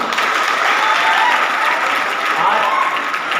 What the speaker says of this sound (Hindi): आप उनके लिए जोर जोर से तालियां बजा दीजिए।